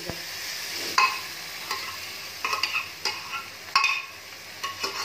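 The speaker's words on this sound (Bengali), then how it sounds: "ভাজতে ভাজতে সুন্দর তেলও ছাড়তে শুরু হয়ে গেছে।" Masala fries in oil for egg tadka dal in a home kitchen: a low, steady sizzle broken by repeated scraping stirs of a spoon against the pan, close and clear with no talking.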